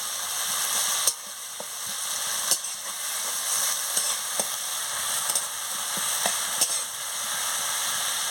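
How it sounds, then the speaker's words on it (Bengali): Chili and turmeric masala frying in a pan for an egg curry, a loud continuous sizzle with periodic scrapes and knocks of a stirring spoon, close up, no talk. "লঙ্কার গুঁড়ো আর হলুদের গুঁড়োটা দিয়ে দিচ্ছি দিয়ে মশলাটাকে ভালো করে কষিয়ে নিচ্ছি"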